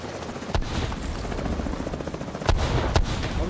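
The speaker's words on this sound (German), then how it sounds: "Noch ein Heli." Helicopter rotor thudding in the shooter game The Division 2, a steady chopping drone punctuated by a few sharp gunshot bursts, fairly close and without talk over it.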